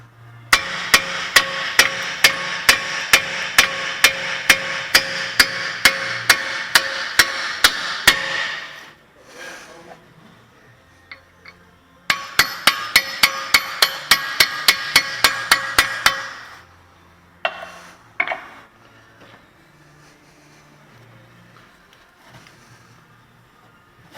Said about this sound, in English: sometimes you have to hammer it too because it gets rusty in there